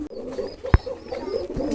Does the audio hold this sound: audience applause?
no